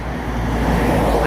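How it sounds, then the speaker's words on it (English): Steady roadway traffic rumbles outside a 14th-century pub near the entrance to Newstead Abbey, a continuous broadband wash of passing cars with no distinct individual vehicle standing out. "sorry for the traffic noise"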